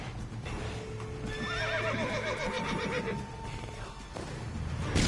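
A horse in The Witcher 3 lets out a loud, close, drawn-out whinny that rises and wavers for a few seconds, with faint hoof clatter and game ambience around it.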